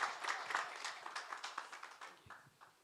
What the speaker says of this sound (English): Another round of applause, ladies and gentlemen, for the CEO